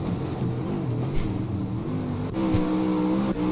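A dirt late model race car on the Port Royal dirt track in the iRacing game runs at full throttle, its engine a loud, steady, harmonic roar that climbs in pitch as it accelerates, with no talk.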